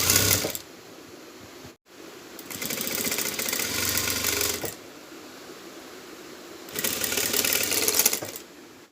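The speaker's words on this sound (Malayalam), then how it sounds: "ഉള്ളിലേക്ക് ഫോൾഡ് ചെയ്ത് 1/2 ഇഞ്ച് ഉള്ളിലേക്ക് ഫോൾഡ് ചെയ്ത് അറ്റത്ത് കൂടെ വളയാതെ വേണം സ്റ്റിച്ച് ചെയ്ത് കൊടുക്കാൻ" Sewing machine stitching the folded slit hem of a churidar runs in two long close bursts of rapid needle chatter, separated by quiet pauses with faint handling noise.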